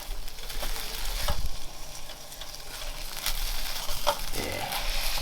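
Burger patties fry in a pan, squeezed flat, giving a steady close-up sizzle and crackle with a few brief clatters and scrapes along the way.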